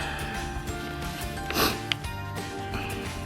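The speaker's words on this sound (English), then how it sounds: "Excuse me sniffling." A single short, close sniffle, a quick nasal intake standing out briefly from quiet room background, with no talking over it.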